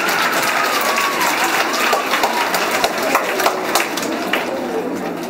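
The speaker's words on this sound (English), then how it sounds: "Let's clap the hands for us." A school audience claps and applauds at an assembly event, a dense, steady wash of hand claps with crowd noise sustained throughout at a fairly loud, near level.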